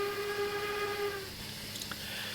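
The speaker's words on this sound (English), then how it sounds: "So now we can hear the lovely steam train horn again." Steam locomotive horn in the Minecraft Immersive Railroading mod, a steady multi-tone whistle held for about a second before cutting off, followed by faint clicks and quiet background.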